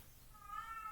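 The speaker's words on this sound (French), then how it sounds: "Ah, c'est mon chat." A house cat gives a single short meow, close and fairly quiet, rising out of a soft background hush.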